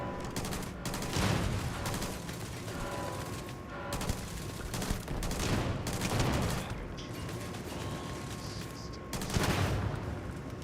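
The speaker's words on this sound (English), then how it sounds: "this explosive gun is just nasty" An explosive gun in modded Starfield fires continuously, dense rattling gunfire with repeated heavier booming blasts throughout, loud and busy.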